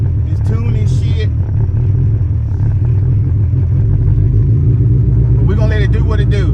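A Honda Civic EF engine idles roughly nearby with a steady low rumble throughout, while someone talks over it at the start and again at the end.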